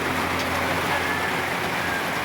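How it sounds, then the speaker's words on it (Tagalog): Heavy rain pours down at a port in Albay, a dense, constant hiss of drops hitting surfaces, loud and close, with a faint hum of traffic underneath. "Lakas ng ulan."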